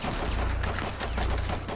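Sustained dense gunfire in a video game, a loud continuous rattle of overlapping shots with no pauses and no talking.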